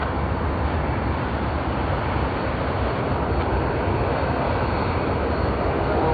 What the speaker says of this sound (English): Let's look at the A220 coming in from Hobart.